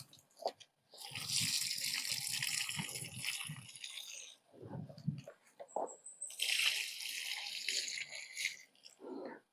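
Water gushes and splashes onto very dry soil at a squash planting spot, coming in two long pours separated by a pause, with soft thuds, drips and handling noises between them and no talking.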